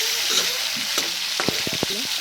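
Fried potatoes go into a pan of frying dhekia fern greens and are stirred, making a steady sizzle broken by several sharp scraping and clattering stirring strokes close by, with no one talking.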